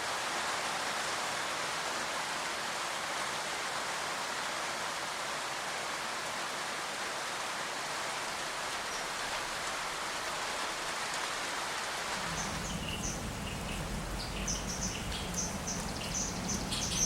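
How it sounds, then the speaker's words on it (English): Steady rain hisses down onto an eagle nest holding juveniles, a continuous wash of falling water that shifts in tone partway through, with no voices. "It rains down on the juveniles."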